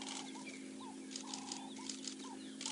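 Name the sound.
ring-necked dove (Cape turtle dove) calling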